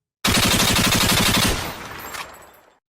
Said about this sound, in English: Here's a machine gun. Enjoy.